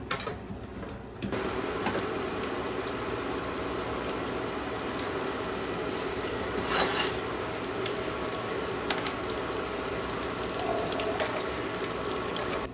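Panko-coated Korean fried cheese deep-frying in hot oil, a dense steady crackling sizzle that starts abruptly and holds for several seconds, loud and close with no voices.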